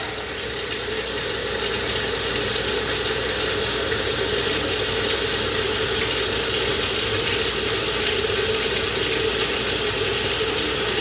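A kitchen tap runs hot water in a steady, loud, unbroken rush while it heats up for tortilla dough, close by and with no voices over it.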